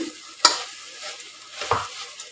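Mashed tomato fries in a pan on the stove, with a faint steady sizzle and a few scraping stirs of a spoon against the pan, close and alone.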